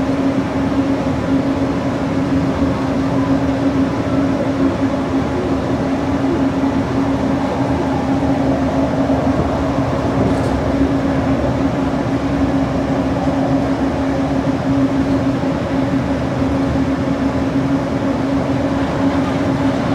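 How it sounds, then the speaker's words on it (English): The Disneyland monorail rides along its elevated track, a continuous loud electric hum and rolling rumble with a steady whine, heard from inside the car without a break. "Please remain seated until the monorail comes to a complete stop."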